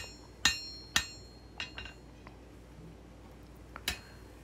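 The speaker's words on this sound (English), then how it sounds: "Now I'm going to start at the heel of the blade and start setting in my bevel." Hammer blows on hot steel while setting the bevel of a small integral-bolster knife blade at the forge: a few sharp, ringing metallic strikes spaced apart, with lighter taps between them, close and fairly loud over a quiet background.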